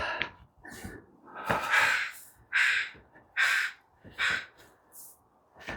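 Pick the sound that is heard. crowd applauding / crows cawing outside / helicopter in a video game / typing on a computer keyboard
crows cawing outside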